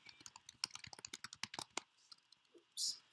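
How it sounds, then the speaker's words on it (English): Rapid keyboard typing, a quick run of crisp clicks and key taps close by, slowing near the end, followed by a short louder burst of noise. "Oops, I started typing too soon"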